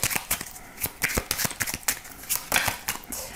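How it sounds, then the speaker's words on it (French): Oracle cards shuffled by hand for a reading, a quick run of close, crisp riffling flutters and soft slaps with no talking. "je vais utiliser le petit oracle de l'intuition de Corinne Madelin"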